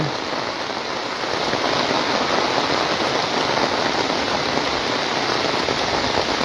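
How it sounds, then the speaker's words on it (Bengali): Heavy rain pours steadily and densely, a loud unbroken hiss of drops hitting surfaces close by. "প্রচুর বৃষ্টি বাড়ছে"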